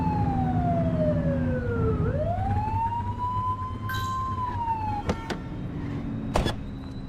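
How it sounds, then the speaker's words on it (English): A police car siren in a video game wails in a long falling-and-rising sweep, then gives several short sharp blips near the end, heard up close over a steady engine drone. "Get behind them and blip the siren and make them pull over."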